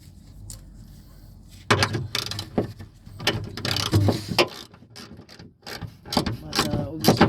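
Screw being tightened on a 2006 Seat Leon door lock mechanism with a worn spline. Close mechanical clicking and grinding scrapes come in short bursts, with faint background voice.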